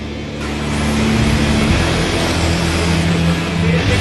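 An RC drift car slides steadily with a continuous, close motor whine and tire scrub, holding a constant pitch that rises slightly partway through the slide, with no talking.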